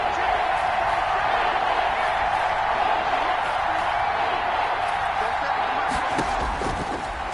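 A football stadium crowd roars in a dense, sustained wash of noise on a third-and-two play, far-off and steady, with a commentator talking over it.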